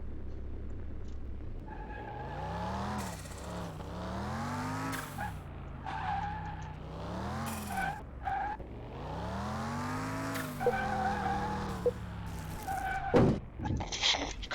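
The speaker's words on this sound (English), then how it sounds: "let's give the car a little bit of test drive though, since we got a test track" Car test drive around a track in Car Mechanic Simulator 2021, a steady engine hum rising and falling through gear shifts, with repeated tire skids and squeals, loud and close, with no talking.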